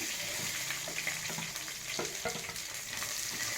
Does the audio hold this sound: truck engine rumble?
no